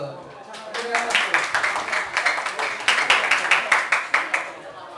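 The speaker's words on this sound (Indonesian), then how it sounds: "Oke, kita tepukkan tangan dulu." A live audience applauds at a talk, the scattered clapping quickly swelling into a fuller round that carries on with brief voices mixed in near the start.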